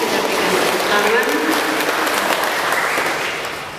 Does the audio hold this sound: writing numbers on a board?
no